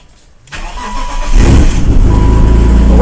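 BMW E39 fitted with rear air suspension starts: a brief crank catches, then the engine settles into a loud, steady idle close by, with no talk.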